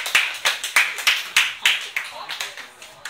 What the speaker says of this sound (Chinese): 掌声鼓励第五题